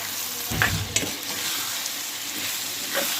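Eggplant and raw mango curry cooking in a pan, a constant sizzle with a few brief stirring scrapes and clinks near the start and one more near the end.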